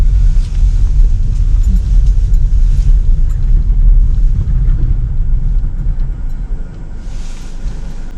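A car drives steadily along a small-town road, with a continuous low engine and tyre rumble heard from inside the cabin and no talking.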